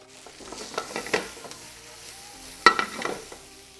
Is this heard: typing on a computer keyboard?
no